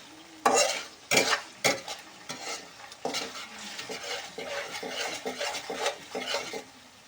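Onion and ginger garlic paste sauté in a pan for a chicken curry, with a steady soft sizzle broken by sharp metal spoon scrapes and clinks against the pan as it is stirred, close and without talk.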